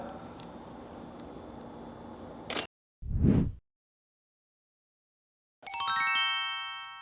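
Photographing a BMW X5 at a slow shutter speed, a camera shutter snaps open with a sharp click and closes with a second, louder clack moments later, followed after a pause by a bright electronic chime, all close with nothing in between.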